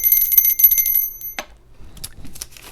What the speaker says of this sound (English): And I'm going to ring my bell.